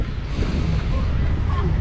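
Breeze at an overcast beach in Clearwater, Florida, a loud, continuous low rumble of wind buffeting the microphone, steady for the whole short stretch.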